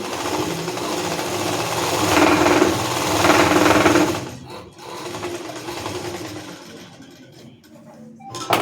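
An electric sewing machine stitches the front panel of a blouse in a tailoring class, running in steady whirring bursts that swell louder for a few seconds, then continuing more softly with brief pauses and a sharp clack at the end.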